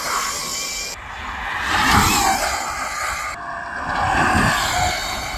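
Electric go-kart driving on a track heard from outside, a whining motor hum that swells and fades twice as the kart passes, with scraping tyre noise and no talking.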